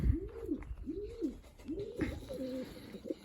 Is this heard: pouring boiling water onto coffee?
no